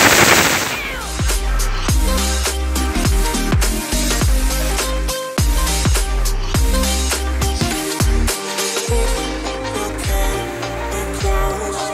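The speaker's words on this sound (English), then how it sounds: "Heavy Machine Gun." A heavy machine gun in the battle royale game BGMI fires in loud, rapid, sustained bursts for several seconds, with dense repeated cracks throughout.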